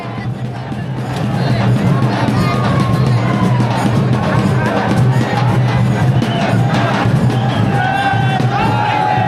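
A huge, dense crowd at the Pattan Kodoli Yatra festival in Maharashtra, with turmeric powder being thrown, rising into a loud, continuous roar of shouting, cheering and babble.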